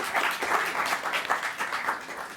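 A brief round of applause at a student question-time event, a crowd clapping steadily and moderately loud in a short continuous burst.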